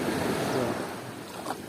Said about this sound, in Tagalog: Malalim, malaking alon, no?